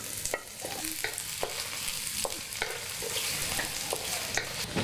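Garlic and shallot fry in warm vegetable oil for a Balinese fish soup, giving a constant close sizzle broken by repeated sharp scrapes and clicks of stirring.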